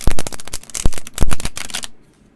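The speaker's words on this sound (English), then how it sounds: "And these are really nice to shuffle." A glossy, flexible tarot deck is shuffled by hand in quick riffles: rapid crisp flutters in a few bursts, close and loud, then abrupt silence.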